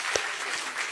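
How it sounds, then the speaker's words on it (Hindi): An audience at an outdoor public news discussion claps steadily together, a dense, even burst of applause filling the whole clip with no voices over it. "ताली बजा दीजिए एक बार"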